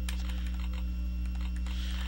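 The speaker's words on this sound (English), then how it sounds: "Well, keyboard, and just type it in." Fast keystrokes on a computer keyboard tap steadily and close, in short irregular bursts over a constant low electrical hum.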